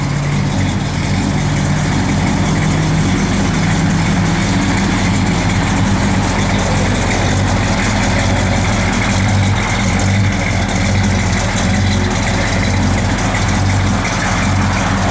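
A 1968 Dodge Coronet 500 convertible idles steadily close by, a deep continuous low rumble with an even mechanical churn that holds for the whole stretch with no talking over it.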